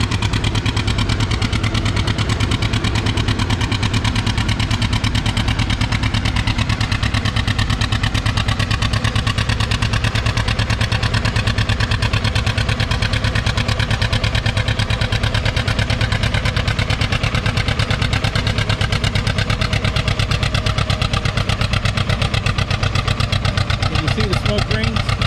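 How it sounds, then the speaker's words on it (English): A John Deere R tractor pulls a weighted sled, its engine roaring loudly and steadily at strain throughout, with a public-address announcer talking over it. "Next hook, John Deere R blowing some smoke rings."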